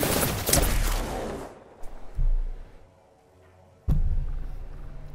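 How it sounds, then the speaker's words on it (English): Bursts of video game gunfire from several players: a dense, loud volley of rapid shots, a short lull with scattered distant cracks, then another close burst near the end. "I just have to deal with four people shooting at me?"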